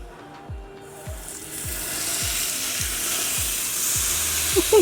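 A massive tomahawk steak lands on a hot griddle and bursts into a loud, close sizzle that swells and holds steadily, with faint rhythmic low tones underneath.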